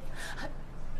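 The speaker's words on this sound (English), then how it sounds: "You're panting!" A person pants hard after running, with one sharp, close gasping breath followed by heavy breathing over a second.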